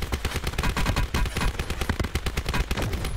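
MP40 submachine gun fire in Call of Duty Blackout, loud rapid automatic bursts with dense, closely spaced shots, continuous and close throughout with no talking.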